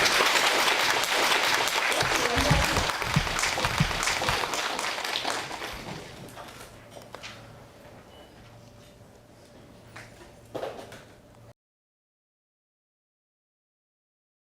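An audience at a university lecture hall breaks into warm applause to welcome a Buddhist teacher, loud and sustained at first, then thinning and fading over several seconds before a brief final flurry and silence.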